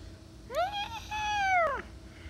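A house cat meows close by, two drawn-out rising-then-falling cries in quick succession, the second longer, over a faint steady background hum.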